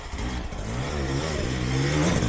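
Dirt bike engine on a hard enduro ride revving steadily and loudly, its pitch climbing as the throttle opens, close and continuous with no talk over it.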